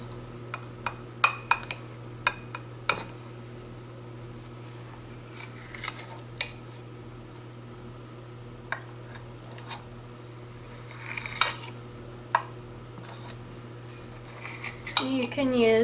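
Baked egg and sausage oven eggs being cut into eight pieces, with scattered light clicks and taps of a utensil against a dish over a steady background hum, sparse and fairly faint.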